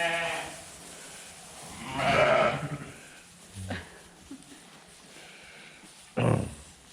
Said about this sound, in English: All my little black and white Holstein sheep.